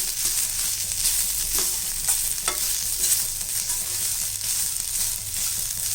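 Chettinad chicken curry masala sautéing in a pan, a dense steady sizzle with a few faint stirring knocks, close and continuous without talk.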